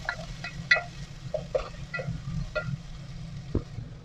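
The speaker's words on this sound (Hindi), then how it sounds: "प्याजों करेंगे अच्छी तरह फ्राई।" Chopped onions fry in a pan for chickpea curry, a soft sizzle under a low hum with scattered light pops and clinks.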